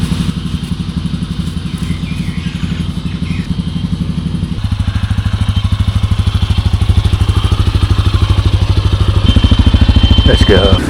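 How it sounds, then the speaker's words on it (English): Motorcycle ridden off-road as part of a multi-day Honduras adventure, its engine a loud, steady mid-pitched drone that rises in level partway through, with rattles and thuds over rough ground. "let's see how the Genesis holds up."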